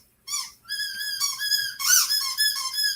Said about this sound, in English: this squeaky toy is going to be the death of me